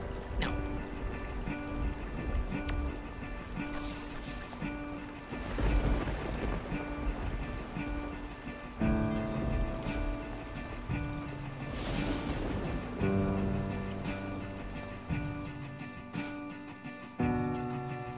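A steady wash of rain and low rumbles of thunder fill a storm scene in the video game Superbrothers: Sword and Sworcery EP, with soft tonal game music underneath.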